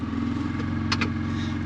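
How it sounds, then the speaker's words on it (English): A tuk-tuk engine idles and revs steadily up close in Argentina's Patagonia, a low throbbing drone with a couple of brief clattering bursts near the middle. "Just putting revs on it now."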